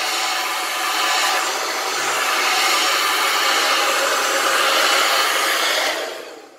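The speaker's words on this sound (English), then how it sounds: "So basically, as I said, upside down, rough blow drying it, getting maximum height and volume." A hair dryer runs at a constant roar, close and loud, as a hair replacement system is rough blow-dried upside down, with a soft fluctuating rush of airflow before the dryer cuts off at the end.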